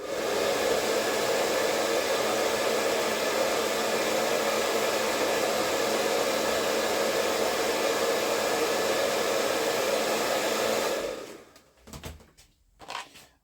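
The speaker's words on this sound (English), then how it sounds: "if you just go over them with a hairdryer" A hairdryer runs loud and steady, blowing hot air over a thin plastic NECA figure, then cuts off near the end, leaving a few soft handling knocks.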